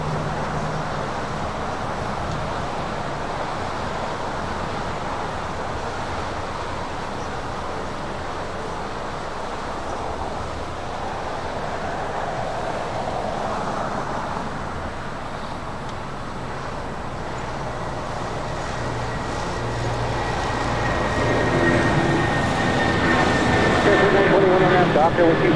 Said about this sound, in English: Next takeoff, another United 757, this time at 200, heading to Houston, Texas, flight 1718. Now rolling down at 25 right.